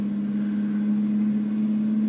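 A truck cab interior while driving, a loud steady engine drone with an even low hum throughout and a faint high whine, no speech.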